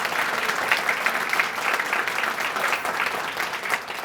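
Audience applause at a chamber of commerce anniversary dinner, a dense steady clatter of many hands clapping at once that runs unbroken for about four seconds.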